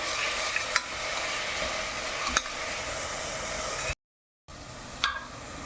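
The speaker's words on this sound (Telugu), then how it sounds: "మసాలాతో పాటు పచ్చవాసన పోయేదాకా వేపాలి." Masala with onion, eggplant, chili powder, salt and turmeric fries in a pan: a steady close sizzle, with a few sharp stirring clicks and one brief cut to silence partway through.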